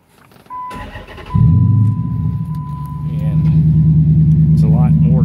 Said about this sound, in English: they're Super 10 series flowmasters, and I'm already going to tell you, you're going to get tons of drone. It's pretty loud.